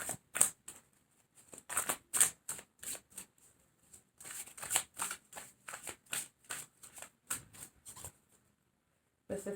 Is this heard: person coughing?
no